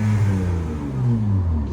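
A 2019 Honda Ridgeline Sport's 3.5L V6 with a Yokama aftermarket exhaust, heard outside at a loud, close, steady low rumble with a slight rise and fall in pitch.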